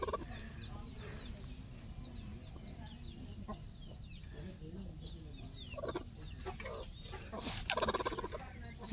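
A brooding hen in a backyard coop gives soft, scattered clucks and low murmurs against faint background noise, with a louder burst of fowl calls near the end.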